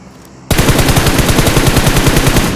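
Rapid automatic gunfire in a ranked online video game, a sudden loud burst of closely spaced shots that starts after a quiet half second and keeps hammering steadily to the end.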